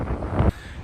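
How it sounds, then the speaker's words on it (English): Strong wind at a beach in Sea Bright, New Jersey, buffets the microphone in a loud low rumble, then drops off abruptly halfway through to a quieter steady rush. "Like, I think windier than usual at a beach."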